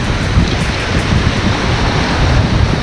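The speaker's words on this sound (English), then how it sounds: "Waves breaking out on this point is perfect." Waves break on a shallow reef point at the end of a beach while surfcasting for striped bass, a steady, loud broadband wash of surf with wind rumble and no speech.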